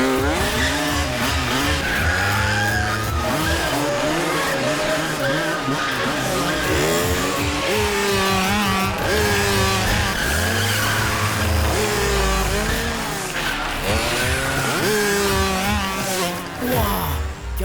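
A car performs a stunt with tires squealing and skidding, a loud continuous screech with a revving engine underneath, layered with dense music across the whole stretch.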